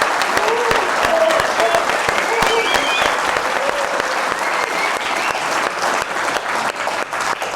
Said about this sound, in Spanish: Un aplauso, escuchemos el vivo, a ver cómo estamos